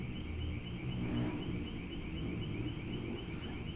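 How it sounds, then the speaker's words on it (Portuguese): An alarm sounds steadily in the background with a repeating high tone, continuous and fairly faint over low rumbling room noise for the whole stretch. "Então, tá rolando um alarme aqui de fundo aqui."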